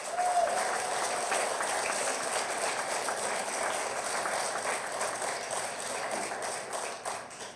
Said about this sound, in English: I was going to ask you to applaud